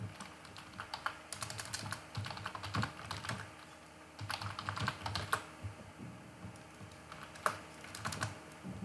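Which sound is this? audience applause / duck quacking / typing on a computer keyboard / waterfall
typing on a computer keyboard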